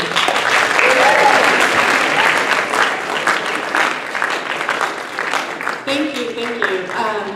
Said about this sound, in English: give Alicia Grande a round of applause for being here